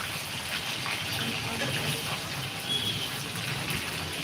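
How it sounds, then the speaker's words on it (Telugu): Water pours steadily in a soft continuous gush, fairly quiet and even throughout with no voices. "నీళ్ళు"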